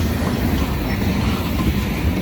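A long Indiana & Ohio freight train hauling grain and rock cars rolls past close by, a loud, steady rumble with wheel clatter and a faint squeal, and no talking.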